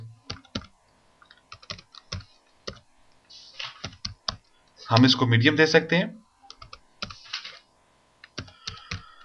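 Light clicking bursts of typing on a computer keyboard, scattered through the clip and partly under a voice explaining while he works.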